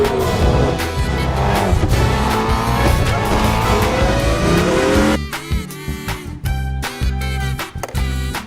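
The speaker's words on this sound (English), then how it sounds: "Francesco brought to a screeching halt." A toy race car in a children's play scene brought to a screeching stop, loud engine whine and tire squeal giving way to choppy skidding bursts and clatter near the end, no talking.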